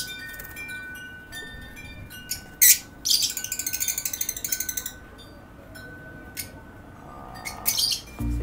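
Pale fallow birds in a cage give sharp, high chirps and a quick rattling run of calls over a steady background hum, close and moderately loud, with no talking.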